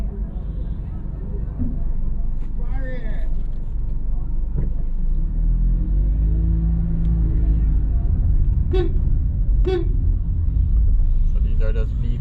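Street traffic in downtown Kingston, Jamaica, with vehicles stopping along the road in a busy Saturday market district: a steady low engine rumble, passing cars and a few sharp horn-like bursts, while someone talks throughout.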